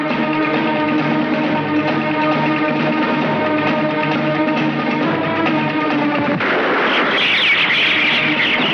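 Gunfire in a Hindi action movie scene, loud and close, heard over a dense, sustained layered tone that cuts off abruptly into a harsh, noisy burst near the end.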